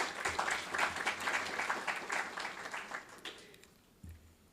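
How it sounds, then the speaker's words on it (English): Audience at a school historical marker dedication ceremony gives a round of applause, a dense, moderately distant clapping that gradually thins and fades out toward the end. "Let's give them another round of applause for yesterday."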